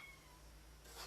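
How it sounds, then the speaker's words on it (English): A domestic cat meows softly in a quiet room, a faint, high, drawn-out call heard once or twice at a distance with no talk over it. "is that you, Puss? Meow."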